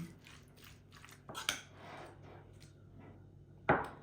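A spoon mixes chicken heart salad with homemade mayonnaise in a bowl, giving soft wet squishing and scraping with a couple of sharper clinks against the dish, close and quiet.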